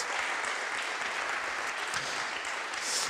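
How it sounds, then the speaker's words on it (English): Conference audience at a blockchain event's opening ceremony applauding its sponsors, a broad, even wash of many hands clapping from a large hall, steady for a few seconds. "So I'd like a big round of applause for them"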